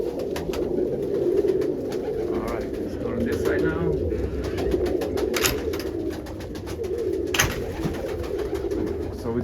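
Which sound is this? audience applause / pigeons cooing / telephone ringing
pigeons cooing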